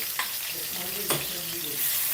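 Cumin seeds and ginger garlic paste frying in oil, a soft continuous sizzle with a couple of brief spoon taps and scrapes, close and quiet, no talking.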